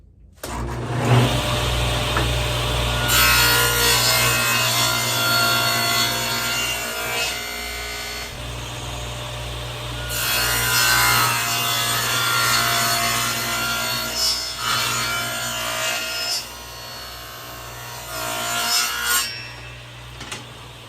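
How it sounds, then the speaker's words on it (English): A saw cuts slots in wood for plexiglass while building a pin case, a loud continuous rasping cut with the pitch rising and falling between passes and short pauses between strokes. "We've cut the slots for the plexiglass."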